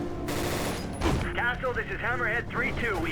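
Bursts of gunfire ring out in the video game Prototype 2, a rapid clatter at the start followed by scattered shots, while someone talks over the game sounds.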